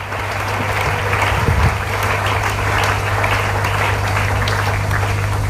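Church congregation clapping and acclaiming the Lord during a seminar service, a steady wash of applause and cheering voices sustained throughout at moderate loudness.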